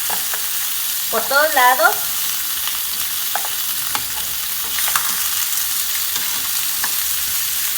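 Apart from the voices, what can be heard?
chicken searing and sizzling in a pan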